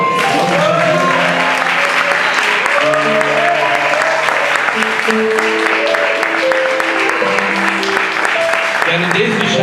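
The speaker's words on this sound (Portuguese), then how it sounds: "Aplauda o Senhor." A church congregation applauds loudly and continuously during a worship service, while sustained musical tones from instruments or singing run underneath the dense clapping throughout.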